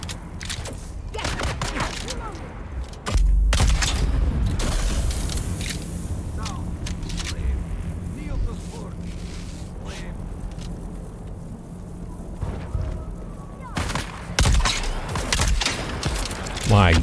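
Gunfire in the desert-planet game Dune: Awakening, bursts of rapid shots and loud cracks mixed with engine-like rumble and clattering action, with someone talking now and then between the volleys.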